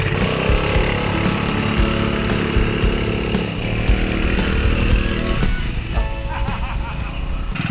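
A small 4-stroke motor fitted to a bicycle runs close by with a steady, buzzing drone that shifts slightly in pitch and never stops.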